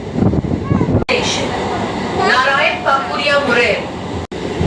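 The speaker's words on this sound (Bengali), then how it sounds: "পাশাপাশি পাস হচ্ছে অমৃতসর কালনা হাওড়া এক্সপ্রেস।" An Amritsar Kalna Howrah Express train passing alongside, a loud continuous rumble with screeching wheel tones, close by, with a voice talking over it.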